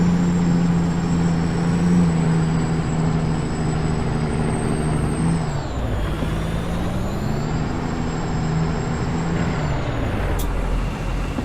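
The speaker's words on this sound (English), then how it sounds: "Some gear grinding." Heavy truck engine droning steadily close by through a gear change, with a brief dip and rough grinding as the shift is made, then the engine pulling on evenly.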